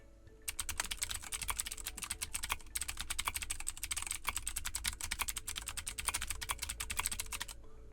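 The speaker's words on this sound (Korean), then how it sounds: "타이핑을 한번 해볼게요." Steady, rapid typing on a computer keyboard, close and continuous with brief pauses, with no voices.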